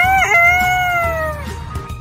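A voice imitates a rooster crowing, a single drawn-out cock-a-doodle-doo up close that trails off after about a second and a half, followed by quiet room sound.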